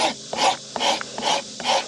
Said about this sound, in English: I'm going to rasp this foot down to balance it a bit more accurately